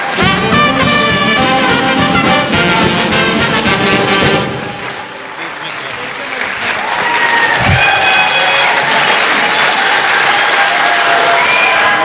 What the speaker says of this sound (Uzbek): Guldiroz qarsaklar davomli bo'lsin.